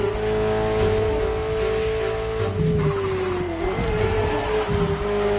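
A Ferrari sports car engine holds a strong steady tone while driving, rising and dipping slightly as it revs, loud and close with some tire noise beneath.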